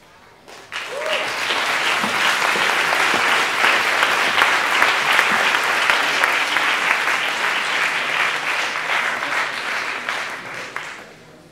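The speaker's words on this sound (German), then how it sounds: "der Applaus war schon low" Applause from an audience at a youth hackathon event in Berlin breaks out after a short pause, a dense, steady patter of clapping that holds strong for several seconds before tapering off with a few last claps.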